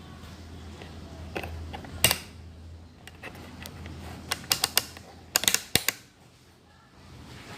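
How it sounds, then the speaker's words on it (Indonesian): The selector switch of an analog multimeter is rotated to the ohm setting, giving a series of crisp, close ratcheting clicks in uneven bursts over a quiet background. "Jadi selektor switchnya ini kita putar ke arah ohm."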